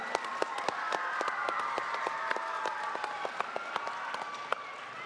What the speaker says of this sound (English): Could we get a round of applause for her?